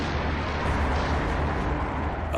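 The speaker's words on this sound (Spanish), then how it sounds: "Motor para un cohete V2." A V2 rocket engine fires with a loud, dense, continuous roar that fills every register, steady and unbroken throughout.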